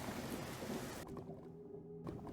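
Rain in Minecraft falls as a dense hiss that thins out abruptly midway, leaving quieter low rumbling, then the downpour noise returns briefly near the end, faint overall with no voices.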